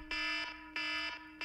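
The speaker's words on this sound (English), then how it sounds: "let's start with a classic alarm" A classic iPhone alarm ringtone loops through repeated bursts of bright, buzzing electronic tones, loud and close, with short gaps between bursts and no talking.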